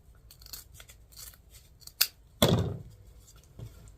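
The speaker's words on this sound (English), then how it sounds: "I'm going to cut these and dovetail these." Scissors cut through mesh ribbon for a dog-themed wreath, a few light snips and then one sharp, louder cutting crunch close by, heard alone in a quiet room.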